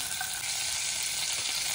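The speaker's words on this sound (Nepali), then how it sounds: "फर्स्ट चाहिँ मेरो ब्रोकली सिम्पल तरिकाले भुट्ने है।" Boiled broccoli fries in Amul ghee in a pan, giving a steady, close hiss and crackle of sizzling with no voices.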